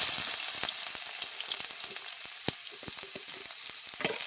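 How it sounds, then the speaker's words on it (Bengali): Chopped onions dropped into hot oil in a pan, a bright loud sizzle fading slightly as it settles, dotted with quick ticks and pops of stirring, no voices. "কড়া গরম হয়ে গেছে, তেল দিয়ে দেবো। পেঁয়াজ কুচি দিয়ে দেবো।"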